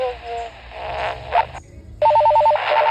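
Telephone ringing sound effect coming through a Retevis walkie talkie, a brisk electronic trill in short bursts after a stretch of muffled radio noise, loud and close.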